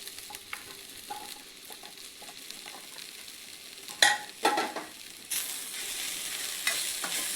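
Egg stir-fried in a hot pan for egg fried rice, a soft ongoing sizzle with scattered utensil taps, then louder scraping stirs and a sharp burst of frying around the midpoint that keeps hissing to the end.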